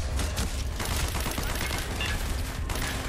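Gunfire in Call of Duty Black Ops, a continuous rattle of automatic shots from several sources with sharp cracks, steady and loud throughout with no pause.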